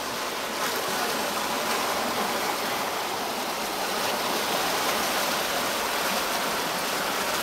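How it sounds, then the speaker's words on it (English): Spring water rushing out over a spillway into the black-water Suwannee River at White Springs, Florida, a loud, continuous hissing roar of flowing water with no voices. "take a look at how that water's coming out"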